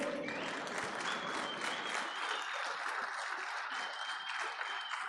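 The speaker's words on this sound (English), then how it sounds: "Another big round of applause." Large audience in a lecture hall giving a sustained, dense round of applause, loud and steady throughout, with a few whistles and cheers mixed in.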